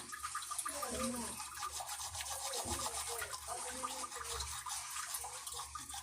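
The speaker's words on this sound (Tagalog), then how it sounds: "So ganito ba kayo mag-toothbrush?" A toothbrush scrubs teeth in a quick rapid rhythm of close, wet bristly rubbing, with running water and a voice murmuring in the background.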